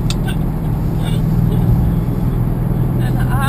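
A Ford Mustang Bullitt with a low-geared high-performance rear end spins its wheels, its engine roaring loud and steady with tire noise, while voices talk over it.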